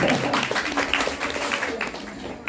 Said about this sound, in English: We'll give her also a round of applause.